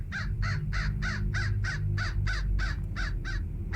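Crow in the Hello Neighbor video game cawing in a rapid regular series of about eleven harsh, evenly spaced calls, clear and close over a low background hum.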